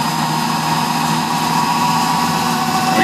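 Electric motor spinning a wooden flywheel refrigeration test bench at about 350 RPM through a 1.75-inch pulley to a 10-inch mid-drive pulley, a steady loud mechanical hum with a sustained whine, continuous and alone.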